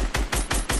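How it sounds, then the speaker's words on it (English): Rapid gunfire from the video game Fortnite: about five loud, close shots in quick, even succession, each a sharp burst, with no voices over them. "We're shooting at him."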